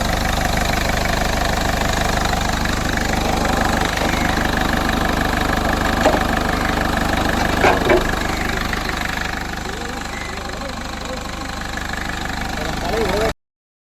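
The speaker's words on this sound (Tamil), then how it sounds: "இன்ஜின் நாய்ஸ் எப்படி இருக்குன்னு பார்க்கணும்." Steady 2012 Ford Figo diesel engine idling nearby with a rough, knocking rumble that stays constant throughout, slightly quieter toward the end.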